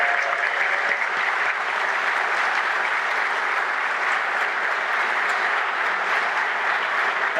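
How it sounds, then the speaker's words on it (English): Sustained applause from a conference audience at a festival talk, steady and dense throughout with no break, filling the room evenly from start to finish. "I just wanted to have one big thanks and round of applause for both Andys over here."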